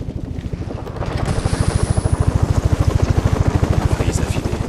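A helicopter in the video game Batman Arkham Origins beats steadily with a loud, rapid, rhythmic rotor thump that builds in strength, backed by broad whooshing noise.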